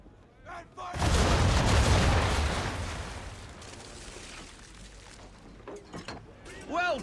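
A ship's broadside of cannons firing round shot in Assassin's Creed 3, one heavy thunderous volley that rolls into a long rumbling decay, followed by voices speaking.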